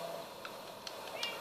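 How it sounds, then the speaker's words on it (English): A cat in a let's-play game gives a few soft, short meows, quiet and somewhat distant, over a constant hiss of background noise. "It's my cat."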